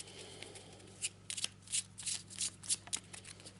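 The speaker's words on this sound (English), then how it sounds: "So we'll give this a quick shuffle." A deck of cards riffled and shuffled in several quick, crisp bursts, close up, with no voices.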